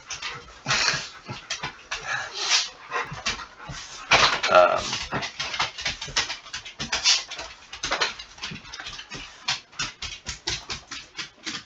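A dog in an indoor home setting makes close, busy sounds: panting, small whimpers and scuffling in quick irregular bursts that carry on through the whole stretch, with no one talking.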